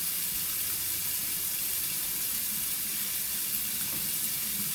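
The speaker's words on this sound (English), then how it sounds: "I'm going to turn the water on," Hot water gushes from a sink faucet in a steady, loud, even hiss of running water that lasts throughout, with no talking.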